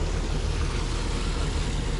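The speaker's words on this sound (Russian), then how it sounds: "Один тузик только создает нам волны." A small dinghy stirs up waves near a yacht on a calm sea, giving a steady, close rush of water and low motor-like rumble with some wind noise throughout, no voices.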